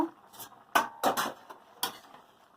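A plate used as a lid is lifted off a cooking pot of boiled young jackfruit, giving a few sharp metallic clatters and scrapes spread over a couple of seconds against a quiet kitchen.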